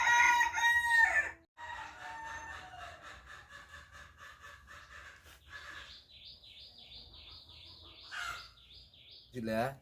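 Rooster crowing and hens clucking in a foggy village yard where the chickens are still shut in. A loud crow opens, followed by steady nearby clucking and a long warbling call.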